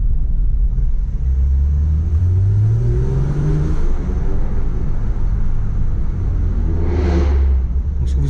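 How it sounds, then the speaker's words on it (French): A Honda Civic following close behind a Porsche GT3 RS, its engine a steady, loud low rumble with rising and falling revs throughout, no voices. "ce que vous entendez, c'est ma Civic qui nous suit"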